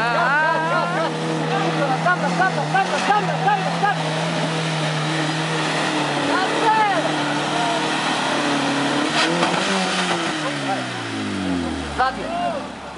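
Off-road vehicle engine revving hard on a muddy track, loud wavering revs that climb and fall repeatedly, then a long descending pitch sweep near the end, with people shouting and talking over it.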